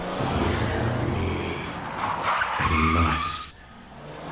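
A Porsche skids and speeds off with tires squealing and the engine revving loudly, then fades at the end while a voice speaks briefly over it.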